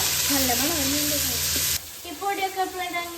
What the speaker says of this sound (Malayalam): പച്ചമുളക് ഇട്ട് നല്ലോണം ഇളക്കി കൊടുക്കുക.